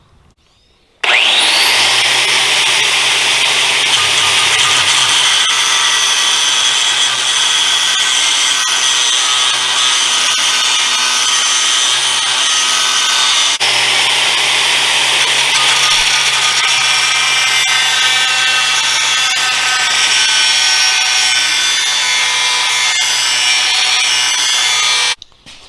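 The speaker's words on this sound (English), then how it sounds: "I was heating it up and then trying to cut it with a jigsaw." A power jigsaw cuts into a heated steel saw blade being made into an ulu knife, a loud, steady high-pitched buzzing whine that starts abruptly and runs continuously for about twenty-four seconds before stopping.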